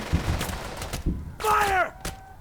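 Scattered squad gunfire in Burden of Command, a few sharp shots spread across the moment with a whistling, falling tone in the middle. Faint talk sits underneath.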